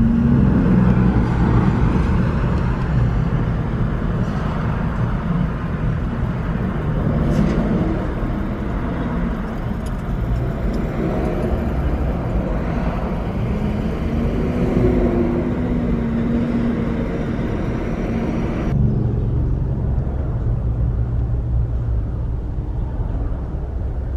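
A car idles and creeps along in heavy Melbourne traffic, heard from inside the cabin with the air conditioning running, a steady low engine and road drone throughout with no talking.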